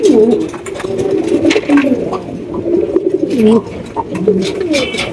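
Racing pigeons kept for sale coo in low, throaty rolling calls, several birds overlapping close by, with scattered clatter and faint voices in the background.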